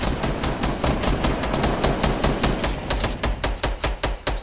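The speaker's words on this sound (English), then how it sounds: "Somebody shooting at me over here." Fortnite gunfire rattles in a steady, loud, rapid stream of close shots lasting several seconds, with no voices over it.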